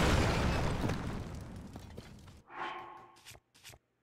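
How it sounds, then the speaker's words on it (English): A bomb goes off in The Legend of Zelda: Tears of the Kingdom, a loud rumbling blast that fills the first seconds and fades out, followed by a short crackling burst of debris and a couple of faint pops. "Free bomb activate"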